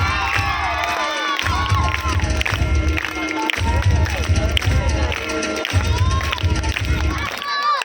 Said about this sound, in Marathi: एकदा जोरदार टाळ्या वाजवू द्या